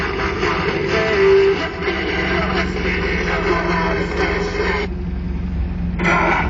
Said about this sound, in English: The stereo then.